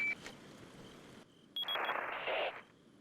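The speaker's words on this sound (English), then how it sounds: "Here comes Salazar on my radio phone." A radio phone call rings in Resident Evil 4, giving a short electronic beep and then two bright, buzzing bursts of ringing separated by a brief pause, clear and close with no talk.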